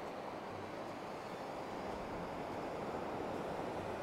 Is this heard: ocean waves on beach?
yes